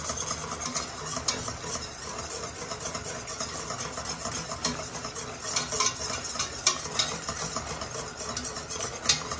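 A spoon or whisk stirs a thick veal blanquette sauce in a pan over heat, a steady close scraping and swishing with a faint sizzle underneath, with no talking.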